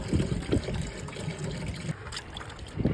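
Water is poured and mixed into a two-part teak cleaning solution aboard a yacht, a close splashing trickle and gush with uneven bursts, continuing throughout.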